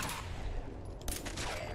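Gunfire in Fallout 4 against a feral ghoul, a couple of sharp shots bursting out over dense, noisy game background, loud and close.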